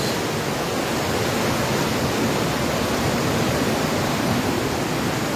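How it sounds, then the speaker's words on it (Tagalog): Steady, dense rushing of fast-flowing river water, a constant broadband roar with no pauses and no voices. "Grabe, ang bilis ng tubig."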